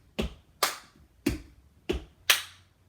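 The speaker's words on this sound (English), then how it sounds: "You're going to do heel drop, clap, heel drop, clap to the same rhythm." Five sharp percussive hits land in a steady, even rhythm, alternating between heel drops on a hard floor and claps, close and crisp.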